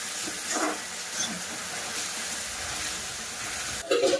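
Puréed tomatoes for rajma sizzle and hiss steadily in hot oil in a pan, a soft continuous frying sound with a brief clatter near the end.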